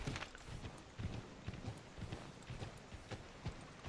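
A horse's hooves clip-clop in a steady rhythm inside Assassin's Creed III, a quiet repeating patter of hoofbeats over a soft ambient wash.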